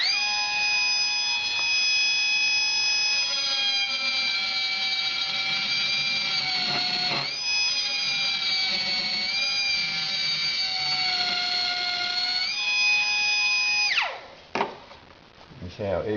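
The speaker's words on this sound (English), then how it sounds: "Got a straight shank carbide burr in it, and I'll take on a bit of aluminium with it." Cheap pencil air die grinder with a straight shank carbide burr cutting aluminium: a loud, high-pitched whine that holds steady, dips in pitch briefly under load, then spins down near the end.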